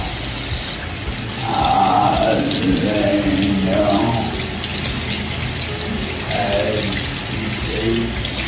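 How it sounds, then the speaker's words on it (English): Water runs steadily from a tap as hands are washed at a sink, a continuous close splashing hiss throughout, with a voice speaking faintly underneath at times. "Washing hands for the second time."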